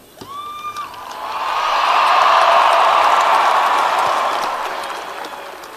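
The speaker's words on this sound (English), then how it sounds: "please join me in a round of applause as we unveil this new mark in Alabama football history" A large crowd applauds and cheers at an Alabama football 2017 championship marker unveiling, the clapping swelling to a loud, sustained roar before easing off slightly.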